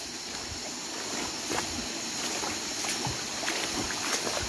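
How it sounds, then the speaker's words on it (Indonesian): Steady broadband rush of a small jungle waterfall, continuous falling water heard close and fairly loud, with no voices over it. "Wah, ada air terjun mungil di depan."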